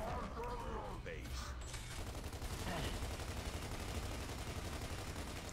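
Sustained gunfire from the video game Gears of War 2 runs as a dense, continuous rattle throughout, loud and steady, with faint voices underneath.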